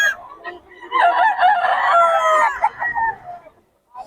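Roosters crow and chickens cluck in a crowded fowl gathering at Bocaue, several overlapping crows loud and near over steady background clucking and murmur.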